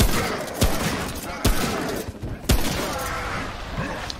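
Video game gunfire in a shooter, three sharp close shots spaced about a second apart over a dense background of game noise.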